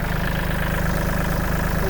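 A 2012 Kubota 36-horsepower tractor engine idles steadily with a low, throbbing rumble, loud and close, running the whole time with no voices.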